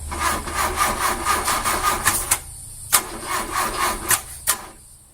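An Ultima RS supercar's starter motor cranks on a weak battery in a slow, labored, rhythmic churn that stops and restarts, several attempts close by, each broken by short pauses and clicks, with no engine catching.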